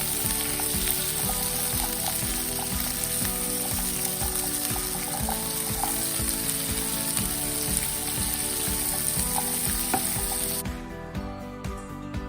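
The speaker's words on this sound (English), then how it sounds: "it's time to cook them. So I'm gonna put some butter in the pan, some minced garlic," Green beans frying in a pan with butter, minced garlic, salt and pepper, a steady close sizzle with occasional stirring scrapes, easing slightly near the end.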